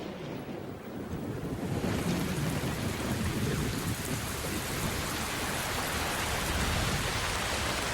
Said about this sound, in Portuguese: No final de dezembro, as chuvas chegam com toda a força.